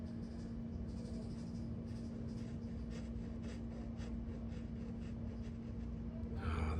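A dip nib pen draws ink squiggles on paper, making faint, repeated scratchy strokes over a steady low hum with no talking.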